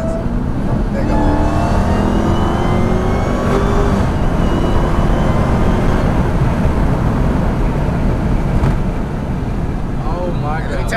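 A Dodge Hellcat 300 engine roars loud and continuous from inside the car, rising under acceleration with a downshift, while people talk over it.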